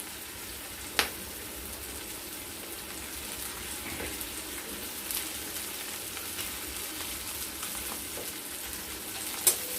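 Onions frying in a pan for egg pulao give a steady, soft sizzle throughout, with a couple of sharp utensil knocks near the start and end, alone without voices.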